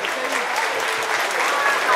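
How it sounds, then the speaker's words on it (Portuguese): Dense applause rolls through a crowd at the opening ceremony of a Japanese cultural festival in a town square in Piracicaba, steady and fairly close for the full stretch with no pause. "Uma salva de palmas para todas as autoridades presentes."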